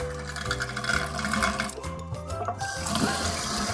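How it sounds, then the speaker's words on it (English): Water running steadily from a faucet into a sink, a constant rushing flow at moderate volume with no talking. "You see the water is running through my faucet."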